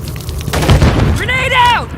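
Gunfire and explosions in the video game Call of Duty MW III, heard as a heavy booming burst with rumbling low end, while a voice shouts over the combat noise.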